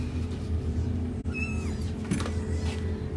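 Baby kittens in a shelter nursery give a few thin, high meows up close, short cries rising over a low steady background hum.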